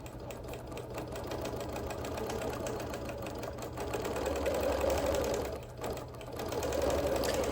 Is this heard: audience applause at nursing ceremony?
no